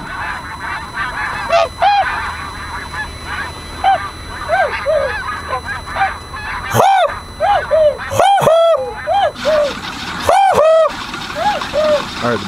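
Flock of tundra swans and geese in Delaware calling as they lift off, a dense chorus of honking and whooping cries with several loud close calls rising over continuous background calling.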